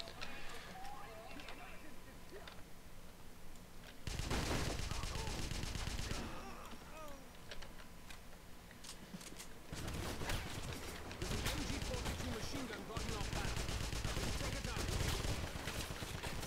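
Machine gun fire in the Wolfenstein video game rattles in sustained bursts among other battle noise, with a player talking over much of it.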